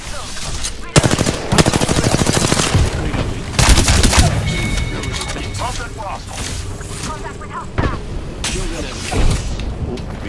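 Gunfire in the battle royale shooter Apex Legends: bursts of rapid automatic shots and sharp single cracks, loud and close, broken by brief gaps and a few booms, with game voice lines and talk heard over the fighting.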